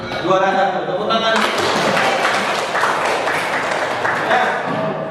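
Students clap for the first-place winners in an Indonesian history class game, a burst of applause under a teacher's speech that starts after a second and continues steadily to the end.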